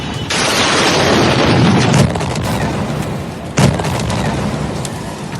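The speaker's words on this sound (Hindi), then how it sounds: "यहाँ के सबसे बड़े शहर गुआयाकिल के एक व्यस्त शॉपिंग मॉल के बाहर विस्फोटकों से भरी एक गाड़ी में भयानक धमाका हो गया।" A car loaded with explosives goes off outside a busy shopping mall in Guayaquil, Ecuador, a sharp loud blast followed by a sustained roaring rumble and a second sudden bang, with no voices.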